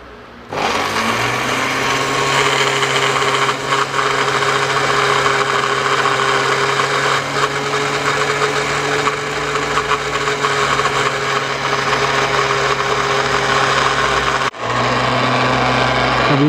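An electric blender whirs continuously at high speed mixing recipe ingredients, a loud close steady motor whine with a short stop and restart near the end.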